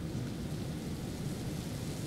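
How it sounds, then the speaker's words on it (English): Steady rain hisses with a low rumble of thunder in a police management video game, a continuous dense wash of noise with no voices. "Oh no, it's starting to rain."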